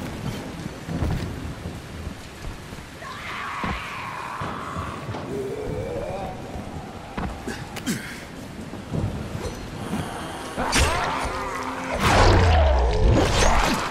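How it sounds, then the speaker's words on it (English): Rain and rolling thunder from a stormy scene in the video game Dying Light, with a steady rain wash, scattered rumbles and a heavier crash near the end, no talking. "Okay, it's raining."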